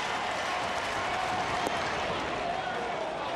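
Baseball crowd of nearly 27,000 fans cheering at a Reds game, a dense, steady roar of voices and applause that holds at a constant loud level throughout with no lulls.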